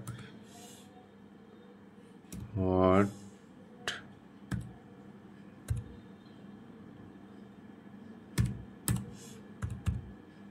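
Someone types on a computer keyboard at a measured pace, with sparse, crisp key clicks and one quick rattling run of keystrokes. The clicks are close and fairly soft over a quiet room.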